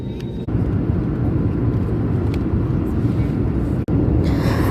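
A steady, loud low roar of jet engine noise fills a Saudi airliner cabin on a flight from Delhi, constant throughout with only a brief dip.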